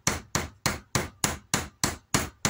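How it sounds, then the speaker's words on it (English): Hammer tapping a saddler's rivet with small, light strokes, nine evenly spaced sharp metallic taps in a steady quick rhythm, close and clear with no talking. "what you want to do is you want to hit with small strokes"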